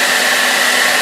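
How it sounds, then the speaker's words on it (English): A hair dryer blows steadily and loudly at close range, a continuous airy whir used to dry toes after scrubbing. "And then I use the hair dryer."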